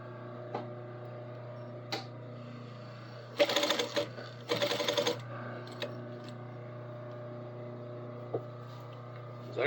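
Sewing machine putting a top stitch along a seam, two short bursts of rapid mechanical stitching over a steady low motor hum, with scattered clicks and handling noises between.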